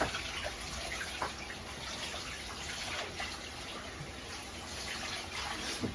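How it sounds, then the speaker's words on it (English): Cold water from a tap running steadily into a pot of drained chillies, a soft continuous splashing stream, faint and heard alone. "put in a bit of cold water."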